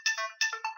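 A mobile phone plays a short message notification tone: two bright melodic chime phrases in quick succession, clear and close, with no talking.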